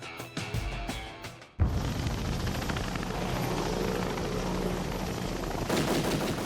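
A Black Hawk helicopter's rotor roars loud and steady and close overhead, after a few sharp bursts of gunfire at the start.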